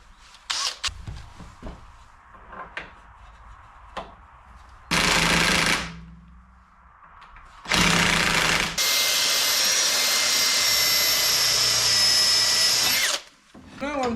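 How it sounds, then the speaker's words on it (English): Power-tool work on a BMW control arm bushing, with several short bursts of drilling or pressing followed by a long sustained whine of the tool running on the rubber bushing, close and loud with brief gaps between. "Now I'm trying to push out the control arm bushing"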